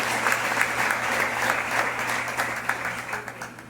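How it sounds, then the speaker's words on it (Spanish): A church congregation at an evangelistic service claps together in a steady, dense round of applause that carries on for several seconds before easing off slightly at the end. "¿Cuántos pueden aplaudir a Dios por eso?"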